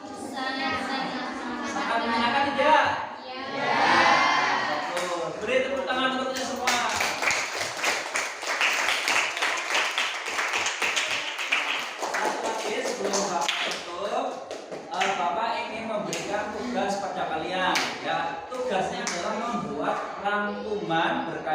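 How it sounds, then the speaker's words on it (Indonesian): A school class applauds at the end of a lesson, a burst of many small hands clapping in the middle, with voices heard before and after. "Beri tepuk tangan untuk"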